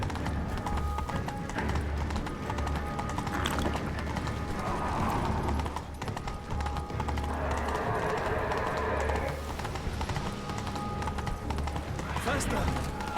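Roach, the horse in The Witcher 3: Blood and Wine, clip-clops along in a steady galloping rhythm beneath game music and ambient mechanical clanks, with a voice talking over parts of it.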